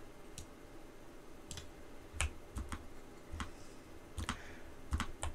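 A wireless mechanical gaming keyboard, a NuPhy Azoth, clicks while Black Mesa is played: irregular sharp keystrokes, some in quick pairs, close and crisp over a quiet room background.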